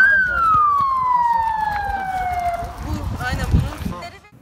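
Ambulance and police sirens wail at a crash scene where a car rear-ended a minibus and both slid into a roadside ditch. A loud siren sweeps downward, with bustle and commotion rising near the end.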